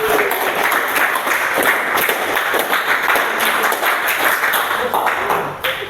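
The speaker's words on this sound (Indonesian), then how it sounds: "Tepuk tangan untuk kalian semuanya." Students in a classroom applaud each other at the end of a lesson, a dense, steady patter of many hands clapping at once, lively and close, fading out at the very end.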